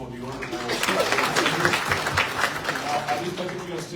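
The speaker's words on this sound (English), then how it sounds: "Another round of applause for the honorable." A crowd at a political strategy meeting in Kenya gives an honorable speaker a round of applause, dense clapping with voices mixed in, swelling in the middle and easing toward the end.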